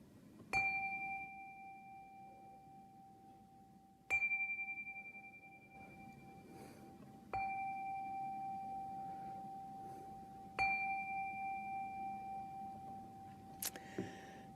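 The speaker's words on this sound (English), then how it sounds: "enter this moment with the ringing of our chime" A meeting chime for a Unitarian Universalist Sunday service is struck four times, each at a steady interval. Every strike rings out clearly and then decays slowly, with a faint room hum underneath.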